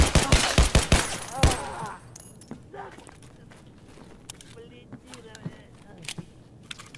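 A rapid burst of gunshots in Escape From Tarkov opens loudly, then scattered lighter shots and clattering footsteps follow at a distance.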